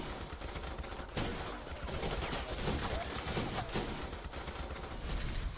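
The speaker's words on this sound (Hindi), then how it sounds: "फिर गोलियां चली और हर तरफ बस धुआं धुआं" Dense bursts of gunfire crackle continuously, rapid overlapping shots with a rough, busy texture throughout.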